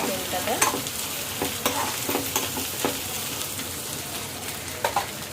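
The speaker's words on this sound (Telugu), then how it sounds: "బాగా ఫ్రై అవుతుంది కదా" Ginger paste fries and sizzles in a pan for goat liver curry, with a steady close crackle and intermittent scrapes and clinks as it is stirred.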